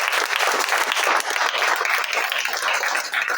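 Hall audience at a farewell ceremony for a commerce department professor claps steadily, a dense, loud round of applause filling the whole short stretch.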